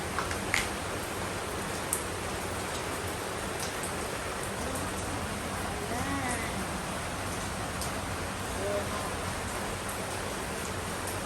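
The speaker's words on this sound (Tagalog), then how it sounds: "Ulan na ulan." Steady hiss of rain falling, a dense even wash of drops with a few faint bird-like chirps scattered through it.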